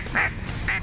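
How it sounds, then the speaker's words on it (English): Mallard ducks in flooded timber in December, two short nasal quacks a moment apart, clear and fairly close against a quiet background. "Green head ducks, some big old mallard drakes."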